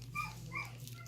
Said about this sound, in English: That's my dog crying if you hear him